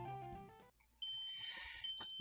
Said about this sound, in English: The screech of the fire alarm kills the tension immediately.